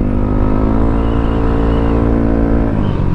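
Yamaha NMAX V2 scooter fitted with an RS8 DC8 exhaust pipe, a loud close engine drone held steady as it revs, dropping slightly at the end, no talking.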